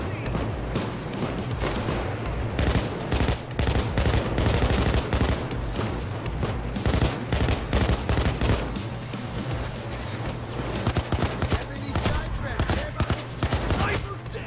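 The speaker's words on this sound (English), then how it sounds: "Where the hell am I being shot at?" Rapid gunfire from a Payday 2 heist firefight rattles nearly nonstop in dense bursts, loud and close, with heavy explosive-sounding thumps mixed in and a steady low drone underneath.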